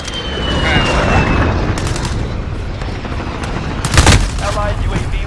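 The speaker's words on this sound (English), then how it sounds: "Allied cruise missile launched." A cruise missile strike in a multiplayer shooter video game, a sustained rumble of distant blasts and gunfire with a sharp loud impact near the end, mixed with game voice callouts.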